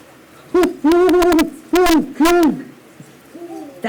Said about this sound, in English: That's the sound of an owl, isn't it? An owl that's right around us.